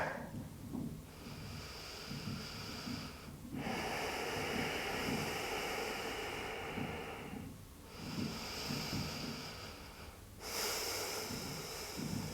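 Deep, noisy breathing during a yoga pose: long, heavy inhales and exhales with a raspy, snorting edge, repeating in slow cycles every few seconds, close to the mic over a steady hiss.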